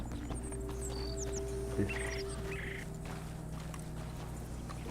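A horse walks with an even, steady clip-clop of hooves in Red Dead Redemption 2, heard close over a low ambient bed with faint bird calls.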